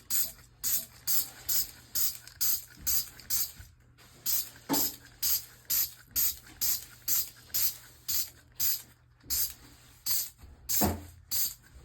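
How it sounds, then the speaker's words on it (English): Rapid hissing spritzes of cleaner from a spray bottle onto well water stains, about two per second in a steady rhythm with brief pauses, close by and fairly quiet. "we're going to spray some on"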